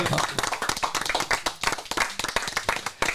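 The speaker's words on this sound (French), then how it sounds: "ça mérite des applaudissements, mesdames et messieurs" Close, brisk clapping from a talk-show audience, a dense run of individual hand claps with no voices over it.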